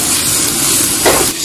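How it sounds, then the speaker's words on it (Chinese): Scallion, ginger, garlic and tomato drop into hot oil in a wok for guo you rou noodles, making a steady, close sizzle with a brief louder hiss near the end. "油温热了，下我们的葱姜蒜、西红柿，爆香它"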